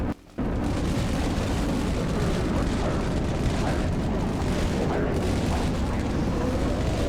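A flamethrower in the Dead Frontier video game, tested in the Deep Wastelands, roars as a loud, steady, continuous whoosh that runs unbroken for several seconds after a brief quiet start.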